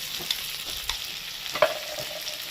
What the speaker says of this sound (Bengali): এবার পেঁয়াজটাকে ভেজে নেব